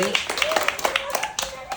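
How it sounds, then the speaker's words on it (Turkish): Short burst of hand clapping from a group applauding four remaining contestants at a primary school name-city-plant-animal quiz competition, a steady patter of claps with a voice speaking over it. "Bir alkışlayalım mı dört kişiyi?"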